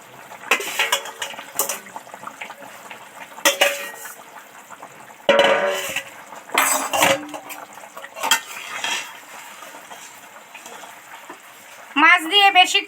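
Fried small fish drop into a simmering curry pot, heard as scattered close clinks and scrapes of utensils against the pan in several separate bursts, with a spoon rattle near the end.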